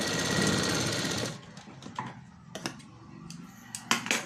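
A sewing machine runs a steady, loud burst of stitching along a front dart, then stops, leaving a few short taps and handling clicks of fabric and machine.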